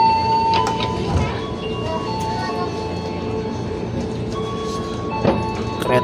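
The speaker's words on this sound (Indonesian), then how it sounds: "Kereta diberangkatkan menuju stasiun Jakarta Kota." KRL Jabodetabek commuter electric train pulling out of a station bound for Jakarta Kota, a steady low rumble with tonal hum and occasional squeals and clanks, heard from on board or close by at moderate loudness.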